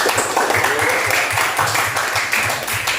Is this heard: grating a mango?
no